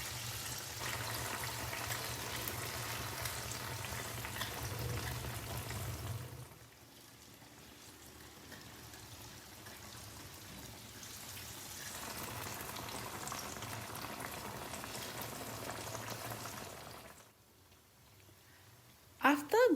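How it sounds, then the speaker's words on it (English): Banana pieces fry in oil in a pan with a continuous bubbling sizzle, dipping quieter in the middle and near the end, with a clatter at the finish. "While fried the banana, don't forget to flip over, so let the banana cook evenly"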